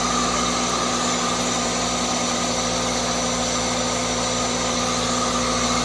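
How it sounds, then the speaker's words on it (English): An idling car engine fitted with a newly added cold air intake: a loud, steady drone with a strong hissing rush of air being drawn in, constant and close throughout with no voices. "That's the air intake part, sounding like that. It's sucking a lot of air."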